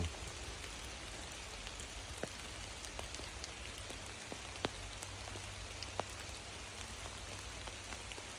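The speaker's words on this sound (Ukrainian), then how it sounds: "Дощ йде, але верхушки не пробивають." Steady rain patters on leaves in a beech forest, with scattered heavier drops landing nearby now and then; no voices.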